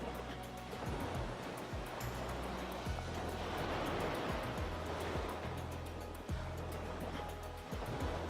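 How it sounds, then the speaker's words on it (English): Ocean waves and surf wash steadily on a beach in the Goddess of Victory: Nikke summer event, a continuous loud roar with periodic surges of breaking water and no talking. "We're definitely by the ocean, there's no doubt about that."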